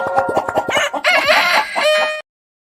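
A rooster crows loudly and close by, its long call preceded by a run of short clucks from chickens, then it stops abruptly.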